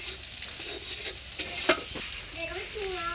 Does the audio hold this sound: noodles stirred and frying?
yes